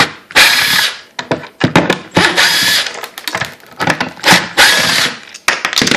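Screws being backed out of the plastic feet on the bottom of kitchen cabinets with a power drill, heard as loud bursts of whirring and ratcheting clicks separated by short pauses, close up with no talk.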